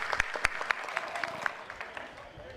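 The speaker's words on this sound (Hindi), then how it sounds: "तालियां बजाओ अखिलेश भाई के लिए आप लोग" An audience at a political gathering in Mumbai claps in a short burst of distinct, spaced hand claps, fairly faint and fading over a couple of seconds.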